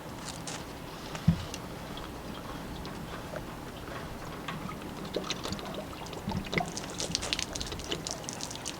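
Water drains from an RV water heater tank, pouring and trickling steadily, a soft continuous splashing with faint knocks and drips throughout.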